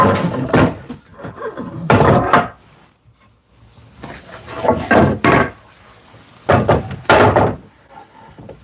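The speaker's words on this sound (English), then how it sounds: "We're gonna drop another clamp down here in the middle." Wooden clamps are set down and shifted on a tabletop during a solid wood top glue-up, giving several close, separate knocks and thunks with short rubbing scrapes between them and quiet gaps.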